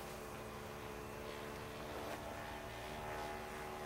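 A 1993 radio-controlled Piper Cub model airplane makes a low pass over a runway, its small engine a faint, steady buzz heard from some distance.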